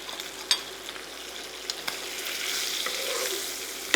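Pork chop frying in hot butter with garlic and thyme while being basted, a steady close sizzle with occasional sharp spatters and clicks of a spoon against the pan.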